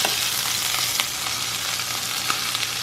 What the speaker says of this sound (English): Watch out, grease is splattering.